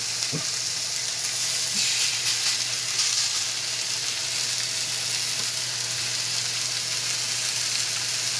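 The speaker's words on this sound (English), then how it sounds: "Oh yeah, we got the sizzle." A steady, bright sizzle of a plant-based Impossible Burger patty frying in a hot pan, constant hiss throughout with a few faint pops and no talking.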